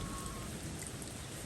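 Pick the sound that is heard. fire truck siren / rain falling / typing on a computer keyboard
rain falling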